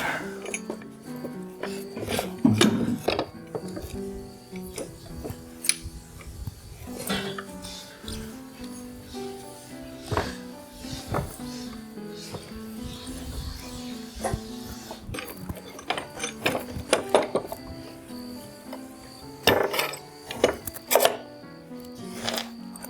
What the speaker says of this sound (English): Let me clamp this up.